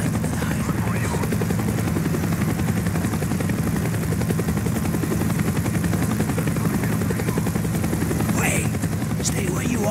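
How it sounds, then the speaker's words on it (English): A helicopter in the Call of Duty: Black Ops shooter game drones loudly and steadily with a continuous rotor rumble, while gunfire crackles intermittently and faint voices are heard. "The chopper is coming around again."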